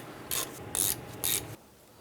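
A hand ratchet snugs down bolts on the parking brake assembly of a 1995–2001 Ford Explorer, giving three close, crisp bursts of rapid clicking separated by short pauses.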